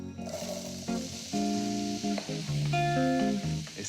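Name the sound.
butter and apples sizzling in a hot pan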